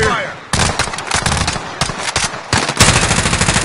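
Heavy automatic gunfire in a shooter video game, with loud rapid bursts of close shots that break off briefly and then resume.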